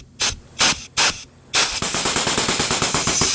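A grease gun pushes grease to force out a brake piston on a 1978 Honda CB400A Hondamatic, with three separate hissing spurts followed by a fast run of sputtering pulses, loud and close.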